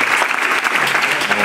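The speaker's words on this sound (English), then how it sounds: "Let's give a big round of applause for all those guys." Concert audience at a Madrid pop festival show breaking into dense, loud applause that holds steady throughout the short stretch.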